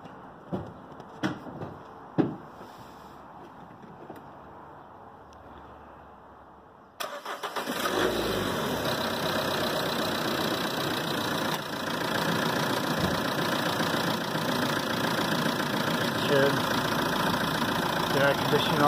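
A car engine turns over and catches about seven seconds in, then settles into a steady, loud idle that runs to the end, after a few quiet knocks and handling sounds.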